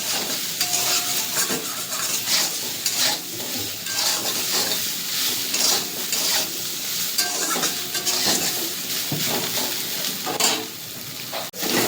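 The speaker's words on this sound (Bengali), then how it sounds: "সামান্য পরিমাণে একটু লবণ দেবো, একটু ভেজে নেবো সয়াবিনটাকে।" Soybean chunks frying lightly with a little salt in a pan, a steady close sizzle and hiss with repeated stirring scrapes throughout.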